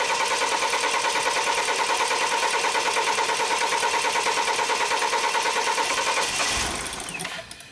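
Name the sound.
BMW X3 engine cranking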